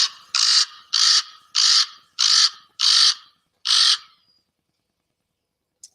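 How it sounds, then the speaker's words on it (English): Common raven calls played back from a bird identification app: seven loud, hoarse croaking caws in a steady, evenly spaced series, each call short and harsh, followed by near silence with one tiny click at the end. "So I can play you this call here of the raven."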